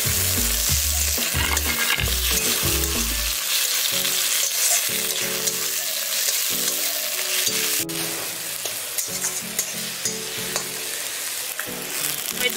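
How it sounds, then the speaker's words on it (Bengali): Chopped tomatoes hit a hot frying pan for an egg curry, giving a loud, continuous sizzle with a thumping, scraping stir that comes in bursts, first fast and clustered, then spaced out. "টমেটো কুচিগুলো এবার আমি দিয়ে দিচ্ছি"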